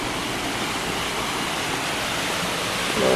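A waterfall pours into a current pool, giving a steady, soft rushing wash of water with no pauses, heard alone and fairly quiet.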